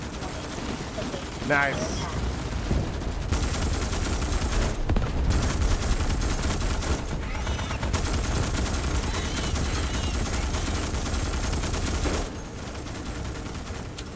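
Rapid gunfire rings out in the Starship Troopers Extermination video game, dense bursts of shots running almost continuously with brief gaps, loud and close, while a player speaks briefly.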